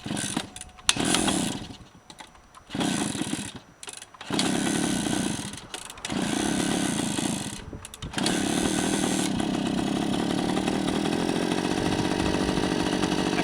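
A Suzuki F50 outboard engine, choke on and carburetor primed, cranks in several short bursts, then catches and settles into a steady, loud, continuous idle.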